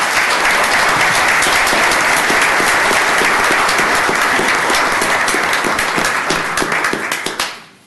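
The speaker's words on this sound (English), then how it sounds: "So I would like to please give them a round of applause for their hard work." A full room at a county commissioners court meeting breaks into sustained applause, dense and loud throughout, then fading away at the very end.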